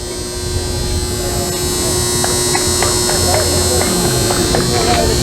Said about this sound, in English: That hum you're hearing is not the audio, that is the transformer here at Las Vegas Desert Breeze Park.